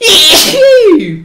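A single loud, close sneeze bursts out, a sharp explosive onset followed by a voiced trailing tail, with a brief exclamation at the end.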